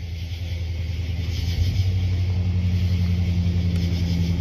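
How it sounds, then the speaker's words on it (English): A car rolls past a nighttime campsite near a burning fire, a steady low engine rumble that swells slightly as it nears, heard alone with no voices. "Okay, there's a car."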